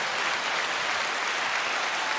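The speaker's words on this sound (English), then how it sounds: "So let's get a clap for that." A small group claps steadily, giving a brief, even wash of applause in a podcast setting.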